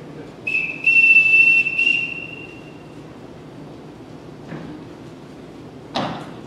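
A sharp, loud whistle is blown to call a household together, one long steady shrill blast that holds for about two seconds and then fades, followed by a couple of faint thumps in a quiet room.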